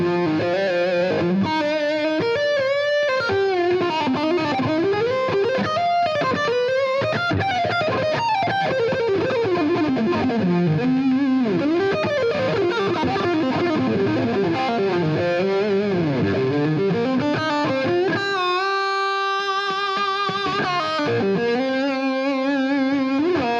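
A John McGuire Valley Pro electric guitar on its in-between humbucker setting plays a thick, distorted lead line of fast bends and sliding phrases, loud and continuous throughout with a short held note near the end.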